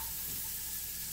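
Patty pan squash, carrots and egg sizzle and fry in a pan with a steady, close hiss, a continuous frying sound with no talking.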